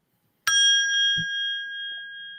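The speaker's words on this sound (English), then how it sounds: "it's a bell. We have a bell." A small ornamental bell made from the top of a vase is struck once, ringing out a clear, close ding whose bright tone holds and slowly fades, with a soft thud partway through.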